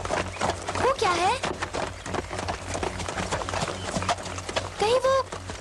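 A horse's hooves clip-clop in an animated Cinderella episode, a steady trotting rhythm running under excited character voices that talk over much of it.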